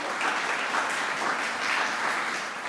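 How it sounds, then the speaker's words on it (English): Brief audience applause as a speaker is welcomed up to the podium at a meeting, a soft, fairly distant wash of many hands clapping steadily for a few seconds with no voices over it. "Round of applause, please"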